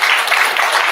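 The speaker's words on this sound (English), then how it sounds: "Let's give him a big round of applause." A big round of applause from a conference audience at SOS 2022, dense and steady clapping at close range filling the whole moment without a break.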